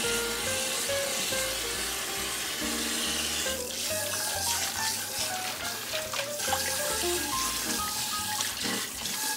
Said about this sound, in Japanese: フライパンも洗って